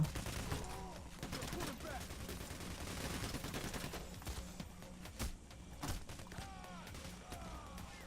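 Shotgun blasts and gunfire in the PAYDAY: The Heist video game, a dense barrage of sharp repeated shots over a loud chaotic mix of game noise with some voices.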